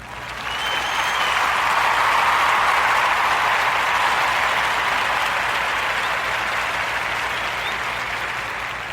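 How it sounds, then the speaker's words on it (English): A sustained round of warm applause from a crowd, steady and loud throughout, rising quickly and holding evenly for several seconds without speech. "the People's Trust Community Federal Credit Union a warm narrative podcast round of applause"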